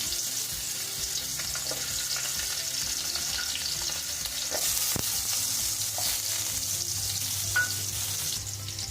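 Grated coconut sizzles steadily in a hot pan for mint chutney, with soft scraping as it is stirred and occasional small clinks, and no voices over it.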